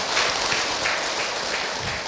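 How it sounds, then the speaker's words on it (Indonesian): An audience of mothers at a religious talk claps together in steady, continuous applause, a brief, even patter with no voices over it. "Tepuk tangan ibu untuk Ahilman"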